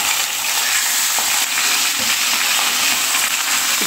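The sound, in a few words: Katla fish head frying in a pan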